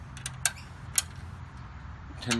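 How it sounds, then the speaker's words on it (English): A 10mm spanner tightening nuts on bolts of a new aluminium and stainless steel clothesline: a few sharp metallic clicks and creaks, spaced apart, close by over low background hum. "Just nip up the nuts with a 10mm"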